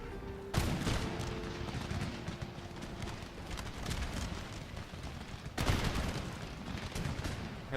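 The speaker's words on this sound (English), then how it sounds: "they've started firing by rank at this point" Massed musket volleys fired by rank ring out in the Empire: Total War video game, dense crackling bursts of shots rolling across the line in two strong waves, with distant battle din between.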